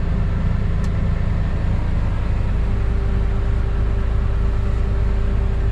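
A tractor engine runs with the PTO engaged, a constant loud mechanical drone with a steady tonal whine over it, close and unchanging throughout, no talk.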